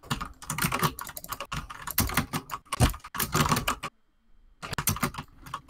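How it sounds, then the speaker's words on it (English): A computer keyboard clatters under fast bursts of typing during a Roblox Strucid game session, dense clicky keystrokes close to the microphone, briefly pausing about a second before resuming. "you just hear my keyboard kind of dying"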